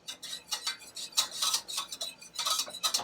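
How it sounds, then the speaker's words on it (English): Roux whisk working a sauce in a pan, producing quick repeated scraping and clicking strokes against the metal in an uneven rhythm, close and fairly soft, with no talking. "This is actually a roux whisk, but any whisk will do."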